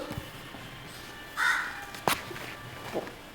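A crow caws a few times, one harsh call followed by a sharper, shorter one and a faint third, heard moderately far over quiet outdoor background.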